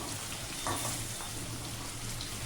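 Okra fries in oil in a pan for a tomato gravy curry, a steady close sizzle with faint stirring and no voices.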